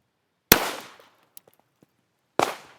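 Two sharp, loud gunshots of 10mm Buffalo Bore ammunition from a six-inch-barrel Blackhawk revolver, about two seconds apart, each a hard crack with a quick fading tail outdoors and faint small noises between.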